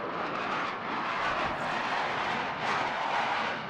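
Aerobatic airplane rolling through a manoeuvre at the Eastbourne International Airshow: a steady, moderately distant engine drone that swells and fades slightly as the aircraft turns, heard alone without talk.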